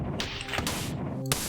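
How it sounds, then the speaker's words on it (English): A video game grenade goes off in a quick crashing burst of noisy impacts and whooshes lasting about a second, ending in a sharp final crack, loud and close with no speech. "Yes, you can hurt yourself with grenades in this game."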